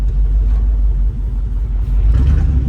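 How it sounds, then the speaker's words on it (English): A loud OBS truck engine running with one of its two catalytic converters cut out, producing a steady, heavy low rumble that holds close and strong throughout, with a slight dip midway before swelling again. "somebody cut out one of the catalytic converters. It has two, so that's why it sounds that's why it's loud."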